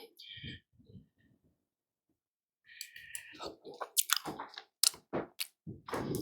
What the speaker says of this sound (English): Take a little bite of the pasta here.